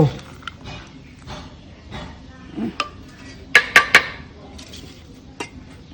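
Tam tao, a Thai algae salad, is being worked in a mortar: scattered clinks and knocks, then three sharp ringing strikes in quick succession, close by, with some quiet background activity.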